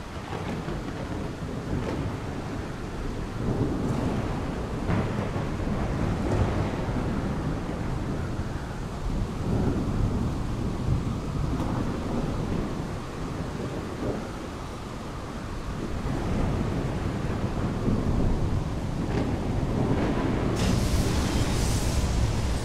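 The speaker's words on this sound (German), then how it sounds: "Hört man schon wieder Gewitter." Stormy ambience from the video game The Solus Project, with a steady bed of wind and rumbling thunder rolling throughout, surging in waves and holding at a constant loud level with no voices.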